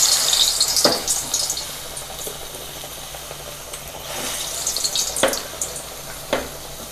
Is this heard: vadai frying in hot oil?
yes